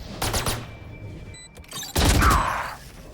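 Gunfire in the video game Valorant, a quick burst of rapid shots followed by a second louder volley with a thumping impact, close and dense against game ambience.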